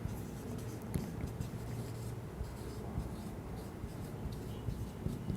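Handwriting notes with a pen, soft continuous scratching and scribbling strokes close by at low volume, with no talking over it.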